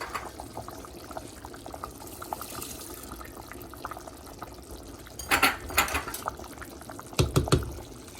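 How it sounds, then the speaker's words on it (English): Rice goes into a pot of simmering liquid, a faint bubbling bed followed by two louder bursts of grains pouring and splashing in, with no talk. "Now we're gonna put in our rice."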